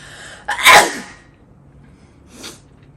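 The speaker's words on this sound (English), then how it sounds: "I need to sneeze." A single loud, close sneeze bursts out sharply, followed by a quieter breathy sound a moment later, against a quiet background.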